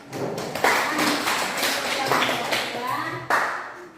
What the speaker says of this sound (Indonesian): Jadi kita kasih tepuk.